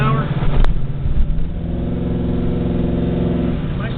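A 1970 Chevrolet Chevelle accelerates to around 40–50 mph, its engine giving a steady, deep rumble heard from inside the car, with a brief click early on and someone talking over the drone.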